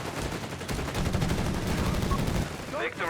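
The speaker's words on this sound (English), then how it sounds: "Another good sniper shot there." Gunfire from a real-time strategy battle in Company of Heroes 3, a sniper rifle shot amid the exchange: a dense, loud burst of shots and impacts in the middle of the clip over a steady battle din, ending in a few brighter metallic tones.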